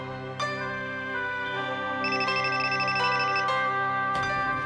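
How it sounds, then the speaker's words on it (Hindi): A phone ringtone plays as a steady electronic melody of layered tones, moderately loud and continuous, with no one speaking over it. "एक रिंग भी पूरी नहीं होने दी, तुरंत फोन उठा लिया।"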